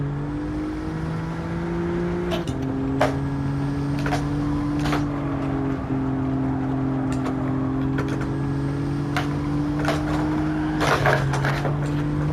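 An Alfa Romeo Giulia GTAm engine in Gran Turismo 7 drones at steady revs, with small pitch shifts as the car shifts gears, and brief clicks and taps over the continuous hum.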